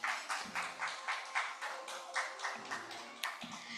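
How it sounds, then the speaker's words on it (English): An audience at a communications summit applauds a panelist, a short burst of steady clapping from a crowd with rhythmic pulses and no voices over it. "Can we have a round of applause for the lady here"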